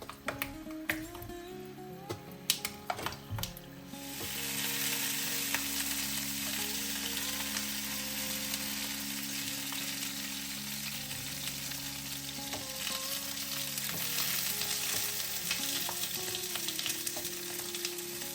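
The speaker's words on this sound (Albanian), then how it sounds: "në një tigan të cilën kam hedhur vaj lule dielli, do të vendosim specat dhe do t'i skuqim në temperaturë mesatare" Bell peppers fry in sunflower oil in a pan at medium heat, a steady close sizzle and crackle that begins after a few clicks and taps and keeps going without pause.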